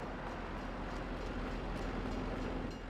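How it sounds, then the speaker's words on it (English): Train pulling into a station in the Farming Simulator 22 video game, a steady rumbling rolling noise with faint rhythmic rail clatter, continuous and fairly low in level throughout. "Ah, and the train's here."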